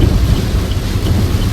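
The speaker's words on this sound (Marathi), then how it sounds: "काय पाऊस आहे, काय पाऊस आहे" Heavy monsoon rain pours steadily onto a car driving the Mumbai–Goa highway through a ghat section, a dense, loud, unbroken roar with deep low rumbling throughout.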